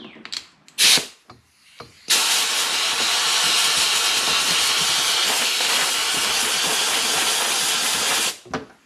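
A compressed air hose gives a few short bursts, then blows a long, loud, steady hiss for about six seconds before cutting off, close up in a boat workshop.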